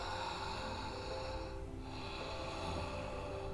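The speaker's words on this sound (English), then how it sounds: "flaring the nostrils, making a sound." Slow, audible breathing through flared nostrils with a soft throat sound during a breath-awareness practice, a steady airy rush with a brief dip midway before it resumes, close and alone.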